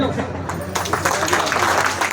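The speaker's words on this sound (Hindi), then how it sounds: "घरवाली आई है, ताली बजाओ" Clapping from a seminar audience in a hall, a loud, dense burst of many hands that starts abruptly after a brief quieter moment and continues steadily, with some crowd voices mixed in.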